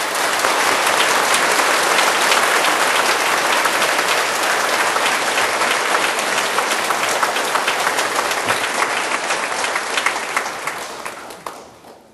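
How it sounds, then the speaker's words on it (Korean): A church congregation at a revival meeting applauds to welcome the pastor: dense, sustained clapping from a large crowd that holds steady for about ten seconds before fading out. "박수로 맞아 주시면 좋겠습니다."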